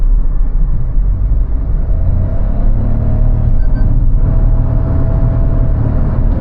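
A Toyota Hyryder in eco mode accelerating, a steady loud engine and road rumble heard from inside the cabin, droning evenly throughout with no talking.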